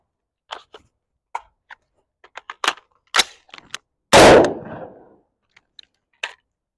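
Handgun shots come in quick full-speed repetitions, sharp isolated cracks spaced irregularly with one loud close blast in the middle, heard outdoors with no talking.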